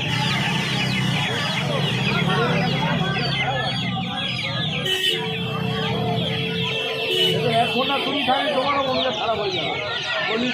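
Australian breed chicks at a crowded hen market give dense, continuous high peeping and clucking, with a steady din of many birds close by and people talking underneath throughout.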